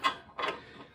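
A torque wrench tightening a front strut bolt on a 2016 Kia Soul gives two sharp, close mechanical clicks about a third of a second apart, with no voices.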